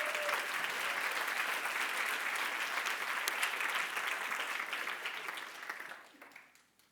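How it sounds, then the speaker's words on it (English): A seminar audience at a fitness business talk gives a full, dense round of applause that holds steady for several seconds before fading out, with no voices over it. "How about a round of applause for the little bro?"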